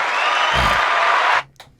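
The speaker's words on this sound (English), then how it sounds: "Let's give you a round of applause for that." A podcast audience gives a brief round of applause, a steady wash of clapping that ends abruptly after about a second and a half.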